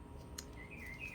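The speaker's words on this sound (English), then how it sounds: "You can hear the birds singing." Faint, high bird chirps and short tweets come through quietly over low background noise, with a brief sharper call near the start.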